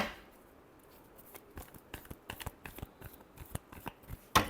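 Tarot cards shuffled by hand during a reading, a quiet run of soft papery riffles and taps building to a louder snap at the end, close and alone without talk.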